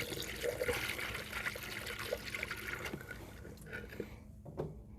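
Water trickles and pours steadily into the radiator of a 1906 Reo Model B as its coolant is topped up, a close, continuous liquid gurgle that thins out near the end.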